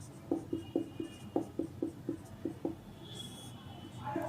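Pen or chalk strokes writing out factorial math by hand for a Class 11 binomial theorem problem: a steady run of short, crisp scratching taps close by, with no one speaking, ending in a brief louder rustle.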